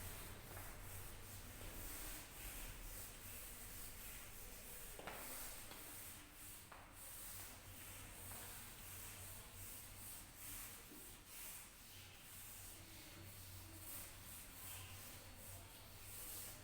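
Steady, soft rubbing of a duster wiping writing off a classroom board, continuous and faint, with a low hum in the background.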